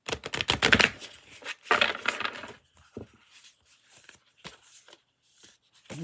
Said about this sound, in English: I'm kind of new at the shuffling thing